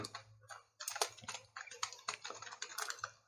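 Someone types on a computer keyboard in Notepad, with a quick irregular run of close, crisp key clicks and a faint low hum underneath.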